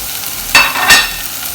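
Crushed ginger and garlic sauté with onions in a frying pan, a soft steady sizzle broken by two quick scraping stirs up close.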